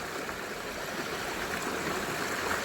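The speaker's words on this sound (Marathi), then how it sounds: "पायपासून नाही तर पायपाच्या वरसून पाणी चालला" A jungle stream in the Konkan rainy season pours over a pipe, giving a steady broadband rush of water heard close and alone.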